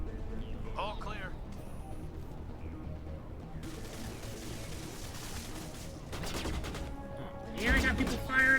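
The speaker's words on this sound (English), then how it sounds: "here I got people firing at me" Gunfire in the Mass Effect video game: repeated bursts of shots crackle through game music and effects, growing denser and louder toward the end.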